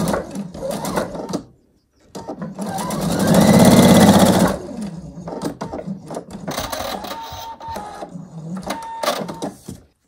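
A sewing machine piecing solid fabric scraps for crumb quilt blocks, with a loud two-second run of rapid stitching followed by shorter bursts and pauses, close up.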